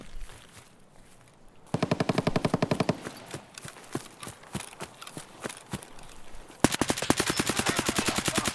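Automatic gunfire in the shooter game Escape from Tarkov, fired through a wall: a fast, evenly spaced burst, then scattered single shots, then a louder, closer sustained burst of rapid rounds.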